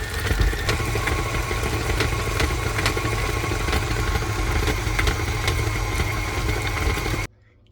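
A KitchenAid stand mixer churns chicken enchilada filling of shredded chicken, onions, salt, cream cheese and half and half, giving a steady, loud motor whir with rhythmic clatter that runs continuously and then cuts off abruptly near the end.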